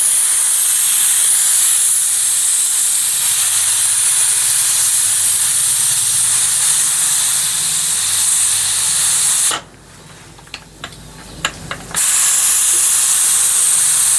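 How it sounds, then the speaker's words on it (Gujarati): A pressure cooker boiling mango seeds vents steam in a loud, steady hiss that cuts out briefly near the end, leaving a few faint clicks before the hiss resumes. "સીટી થોડીક વધારે વાગી છે"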